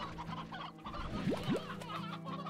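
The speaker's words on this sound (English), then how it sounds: "Do not need this many roosters." Roosters clucking in the video game Slime Rancher, a cluster of soft, close clucks and chatter from several birds with two quick rising squawks in the middle.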